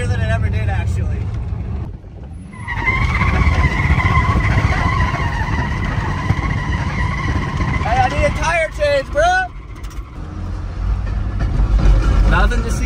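A car driving at about 45 mph on a flat tire, with loud continuous road and engine roar, a steady droning whine, and brief squealing bursts near the end; people talk over it.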